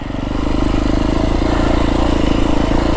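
A Beta 350 X-pro dirt bike rumbles loudly and continuously while riding down a long mountain descent in southern Arizona, the engine note steady with a rapid pulsing throb and rattling clatter, close to the rider.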